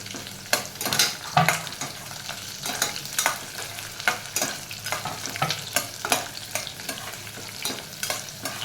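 Capsicum frying in a pan for paneer pulao, a steady soft sizzle broken by repeated sharp scrapes and clinks of a spatula stirring, close and alone with no voices.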